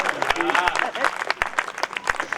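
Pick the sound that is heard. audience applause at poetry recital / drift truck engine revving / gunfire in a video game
audience applause at poetry recital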